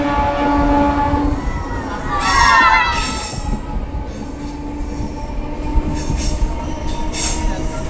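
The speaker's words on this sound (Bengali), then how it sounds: "আমাদের ট্রেন এইরকম ভাবেই কার্ভ লাইনের পথে ছুটে চলবে।" A train running along a curved rail line near Rainagar station, with loud wheel squeal rising around the middle of the run over steady rolling rumble and clatter of the carriages.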